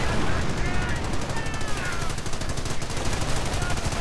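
Automatic 30 caliber machine gun fire in a World War II strategy game rattles in rapid bursts over dense battle noise, with a commentator talking over it.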